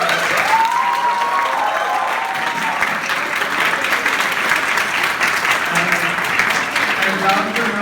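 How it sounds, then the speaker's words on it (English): An audience at a college team presentation applauds with steady, loud clapping throughout. Faint cheers and voices are mixed into the clapping. "so round of applause for them."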